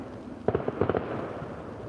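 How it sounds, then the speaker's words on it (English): Fireworks go off at night beyond Epping Forest, a quick cluster of several sharp pops and crackles heard from a distance, fairly faint against a quiet background. "If that's going to be the volume of fireworks I hear."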